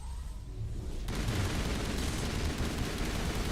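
An assault rifle in the game Mass Effect fires after about a second of quieter ambience, then bursts into loud, sustained rapid fire that fills the rest of the clip.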